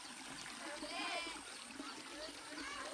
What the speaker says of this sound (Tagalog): Ayan the water is flowing over there.